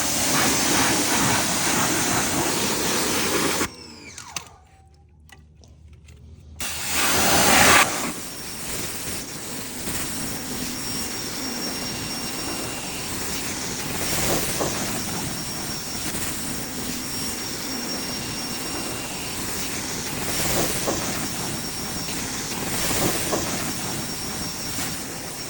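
A pressure washer hisses loudly and steadily as it sprays mud and road grime off a motorcycle, with a brief pause near the start before the broad spray resumes.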